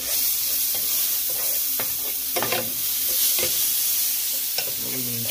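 Spoonful of garlic sizzling and frying in a pan for arroz mampostiao, a steady bright crackle broken by several louder stirring scrapes and clatters, close and without voices.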